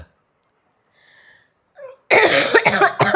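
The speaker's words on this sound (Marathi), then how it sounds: "खोकला यायला मला" A short run of loud, harsh coughs in quick succession, following a few seconds of near silence with faint breathy sounds.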